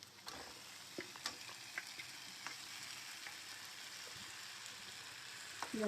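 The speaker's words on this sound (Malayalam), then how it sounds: "ചിക്കൻ മസാല ചേർത്ത് ഇനി ഇതിനകത്തോട്ട് ചിക്കൻ ഇടാം" Chicken pieces sizzle and fry in a chicken masala base for a homemade chicken biriyani, with a steady hiss and a few sharp spoon-and-pan scrapes as it is stirred; no one speaks.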